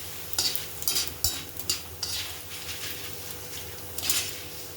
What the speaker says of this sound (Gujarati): આ પૌવા તળવાના છે, આવી રીતે બધા પૌવા તળાઈ જાય